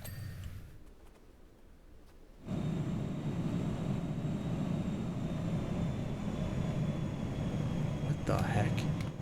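An airplane roars low overhead in the Powerwash Simulator video game, a loud steady engine drone that starts abruptly after a quieter stretch and holds to the end.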